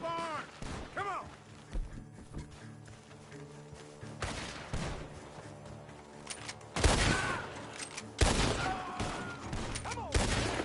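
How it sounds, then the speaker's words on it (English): Gunfire from a barn in Red Dead Redemption 2, several loud broadband bursts in clusters over game music and ambience, with sharp volleys near the middle and end and voices talking between them. "The gunshots are coming from that barn"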